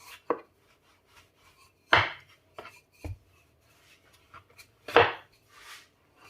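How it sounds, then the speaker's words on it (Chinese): A rolling pin works dough on a floured wooden board, uneven thumps and knocks with softer rolling rubs between them, close and sparse, with no voices. "取个擀面杖上下给它擀开"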